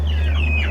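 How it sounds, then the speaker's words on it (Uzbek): Chickens and young chicks of a local breed clucking close by, a steady run of overlapping calls lasting under a second over a constant low hum. "ajoyib zo'r jo'jalar shu yerdan chiqyapti."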